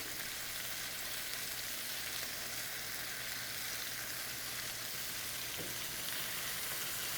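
Pasta eyeballs browning in a hot pan, giving a dense, continuous close sizzle at an even level throughout with no talking.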